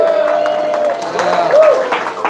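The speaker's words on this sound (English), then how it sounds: "give a big round of applause to all the volunteers you had tonight" Crowd applause for volunteers at a live evening show: a steady wash of clapping that holds for the whole moment, with a voice speaking over it.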